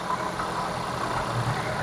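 A 9th-generation Toyota Corolla Altis engine runs at idle, giving a steady, even hum with no change in pitch or loudness throughout and no voices.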